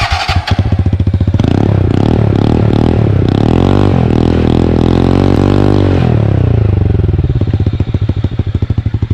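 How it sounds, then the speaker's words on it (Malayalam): A TVS Ntorq scooter fitted with an Akrapovic exhaust runs loud and close, its engine revved repeatedly in short bursts that rise and fall before settling back to a throbbing idle, with no talking over it. "അപ്പോൾ നമുക്ക് ഈ വണ്ടിയുടെ എക്സോസിനോട്ടൊന്ന് കേട്ടാലോ"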